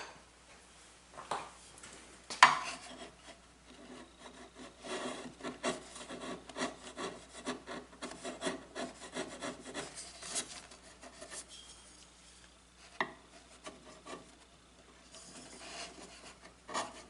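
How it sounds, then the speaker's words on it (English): A wood chisel carving a small wooden jewelry case, heard close up as quiet, intermittent scraping and rubbing strokes with an occasional sharper tap, no talking. "Use a different chisel. This one's a little bulky for what I'm doing."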